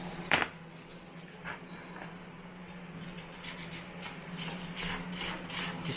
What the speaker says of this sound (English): 220 sandpaper. Sorry. It's better without holes in it,